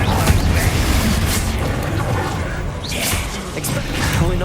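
The Confringo explosive spell blasts in the video game Hogwarts Legacy, a loud, continuous rumbling boom with whooshing bursts and crackle that fills the whole stretch without letting up.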